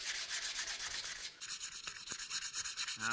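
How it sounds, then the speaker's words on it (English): A rusty metal bike part is sanded down by hand: close, rhythmic back-and-forth rasping in quick strokes, steady hiss at first, then a drier, more rapid scrubbing. "It's great, it's really rusty, so I need to sand it down."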